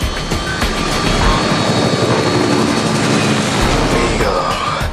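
A helicopter flies close by, its rotor and engine making a loud, continuous thrumming roar with a steady beat that stays strong throughout.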